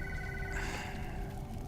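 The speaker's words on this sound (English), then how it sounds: "The phone." A telephone rings faintly in the background during a Diablo III play session, a tonal ring over a low steady hum with no talk.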